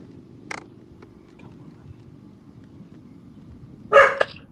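A pet dog indoors in a game room gives a short yip, then a louder pair of close barks near the end, over a quiet room background.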